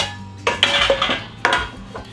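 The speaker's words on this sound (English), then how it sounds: "you're going to want to get your pie pan out." A non-stick pie pan is pulled out and handled, giving a few close metallic clanks and rattles in quick succession, with no talk.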